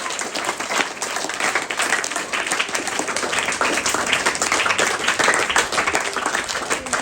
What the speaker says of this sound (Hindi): तो आप लोग कमाल करते रहो ताली बजा के।